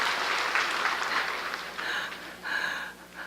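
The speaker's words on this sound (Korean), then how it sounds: "우리 고생한 우리 서로를 위해서 한번 큰 박수 하면 좋겠습니다." Church congregation applauding during a Korean Sunday service: a full, sustained wash of many hands clapping, fairly even in loudness, then thinning and fading toward the end.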